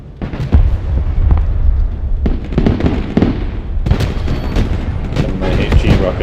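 HE rockets firing in the Broken Arrow real-time strategy game, a dense run of booming launches and blasts over a continuous rumble, with sharp transients stacking up across the whole stretch and a voice talking underneath.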